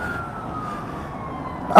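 An emergency vehicle siren wails faintly in the distance as a steady drawn-out tone, ending in a sudden loud noise at the close.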